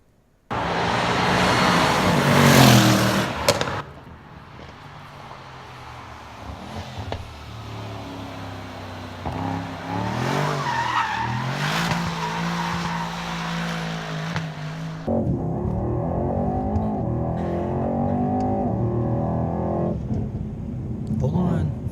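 Car passing during a sound-effects recording session, engine noise swelling and fading with pitch sweeps and a loud roaring pass, heard in several runs from close by.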